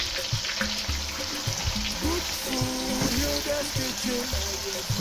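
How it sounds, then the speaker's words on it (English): Chopped onion, ginger, pepper and rosemary fry together in hot oil for spinach stew, a dense continuous sizzle with some watery bubbling and stirring underneath, close and steady while a voice talks. "I'm adding all my chopped onion, ginger, pepper, rosemary, all in one go."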